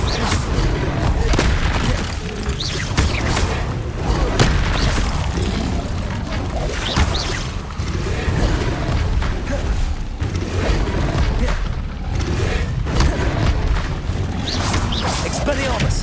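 Confringo spell explosions in Hogwarts Legacy boom and crash over dense, continuous combat noise, with whooshes and thuds layered in a loud, busy fight.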